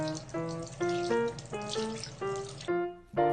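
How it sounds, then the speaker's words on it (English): A kitchen or washroom tap runs steadily while hands are wetted for washing. The water noise is constant, with a tonal melody over it and a short drop in level near the end. "Wet the hands with running water."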